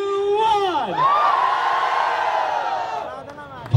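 A large crowd of boys at a government event in Indore bursts into loud, sustained hooting and cheering after a countdown, whoops rising and then holding steady for several seconds before fading.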